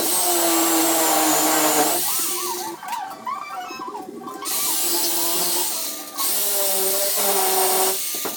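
A power tool cuts through the stock strut housing tubing of a 1983 Toyota Corolla during a coilover conversion, whining loudly and steadily with dips in pitch as the cut bogs down under load, with no talk over it.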